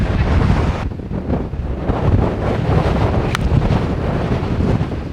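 Strong wind buffets a microphone out on a golf course, a loud, continuous roar of gusting air that swells and dips without pause and masks any other sound.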